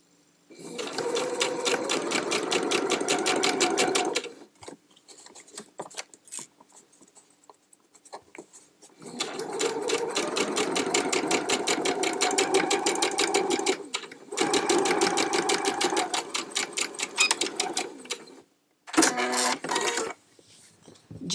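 A sewing machine stitching fabric close up, running in long steady bursts of fast rhythmic clatter separated by short pauses and light handling noises.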